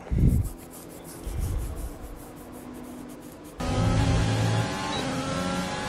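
A racing car in a track racing video game pulls away onto the circuit, a low engine drone rising into a louder, steady whine with tonal harmonics after a few seconds of quieter rumble.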